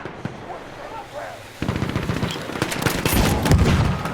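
Machine gun fire in Battlefield 1 comes in a rapid stuttering burst of close, loud shots after a quieter lead-in with faint gunfire, then continues with layered battlefield shooting.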